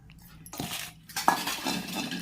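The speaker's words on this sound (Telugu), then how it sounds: "ఇప్పుడు మనం పోపు కలుపుకుందామండి" Cooked rice being stirred together with tempering in a metal pot for lemon rice, giving close scraping and clinking of a spoon against the pot in short bursts, with a brief quiet gap partway through.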